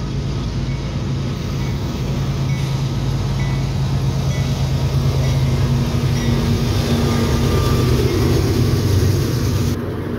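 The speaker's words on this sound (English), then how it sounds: "This is another CSX northbound." Northbound CSX mixed manifest freight train rolling past on track one, a steady loud rumble of wheels and cars with a low droning tone running throughout, no talking.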